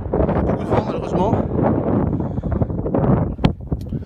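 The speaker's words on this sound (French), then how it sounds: "Il y a beaucoup de vent, malheureusement." Strong wind on a hilltop buffets the microphone in continuous rough gusts, loud and close, with a few sharper knocks; no one speaks over it.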